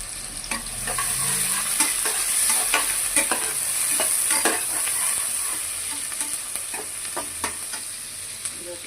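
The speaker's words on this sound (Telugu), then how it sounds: "ఇప్పుడు ఆనియన్స్ వేయించుకున్నామండి. పచ్చిమిర్చి కూడా ఇందులో వేస్తాం." Onions and green chillies fry in a pan with a constant hissing sizzle, while repeated scraping stirs clack against the metal at an uneven pace, close and moderately loud, with no speech.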